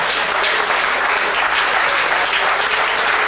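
Studio audience applauding steadily on a TV tribute show, a dense, even wash of many hands clapping throughout at constant loudness with no voices.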